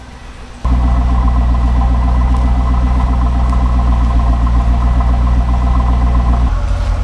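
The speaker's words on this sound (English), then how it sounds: "So I'm gonna let that just idle for a minute." A C5 Corvette with a P1631 code and oil pressure sensor problems starts up and settles into a loud, steady idle with an even rhythmic low throb that runs close and unbroken for several seconds.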